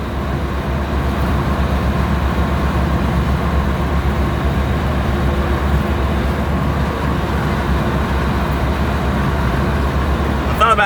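Suzuki Samurai fitted with a swapped-in 8-valve 1.6 Geo Tracker engine, cruising at an easy 45 in top gear under light load: a steady, close, continuous low engine drone with road rumble, unchanging throughout.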